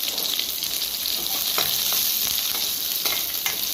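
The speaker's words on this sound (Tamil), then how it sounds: "கடுகெல்லாம் போட்டு நல்லா பொரிச்சிக்கலாம்" Mustard seeds fry in hot oil for curd rice, a steady bright sizzle with scattered small pops and crackles that stays close and continuous, with no one speaking.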